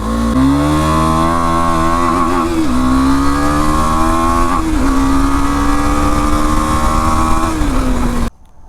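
A motorcycle engine strains up a hill climb, loud and close, its pitch rising steadily under load with a few brief dips between gears before it cuts off at the end.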